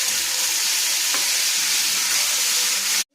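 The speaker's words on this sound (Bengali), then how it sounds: "সামান্য রঙের জন্য একটু হলুদ দিয়ে দিলাম, আর পোড়ানোটা আর হলুদ দেবো না, ভালো করে ভেজে নেব।" Cauliflower and potato fry with salt and a little turmeric in a pan, giving a loud, steady, close sizzle with a brief scrape from stirring, then cutting off abruptly.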